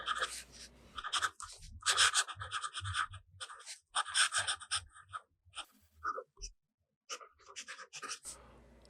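A fountain pen with blue artist ink writes cursive on paper in close, dry scratching strokes. The strokes come in quick bursts with brief pauses between words, and no one speaks.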